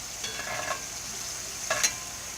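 Hamburger patties fry in a Lodge 12-inch cast iron pan, giving a steady close sizzle with a couple of brief scraping stirs or flips.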